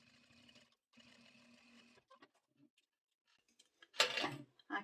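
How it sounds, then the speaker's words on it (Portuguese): A sewing machine runs a presser-foot seam on stitch setting 3 through fabric for a necessaire, with two steady whirring runs, then scattered clicks and a louder rustle of handled material. "Vou passar uma costura de um pé de máquina no ponto 3 da máquina."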